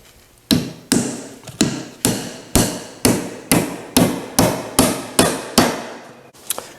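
Hot-dip galvanized joist hanger nails are hammered into an old-style wooden carpenter's tool box, about a dozen sharp, evenly spaced blows ringing close and loud, each one decaying before the next, with no voices.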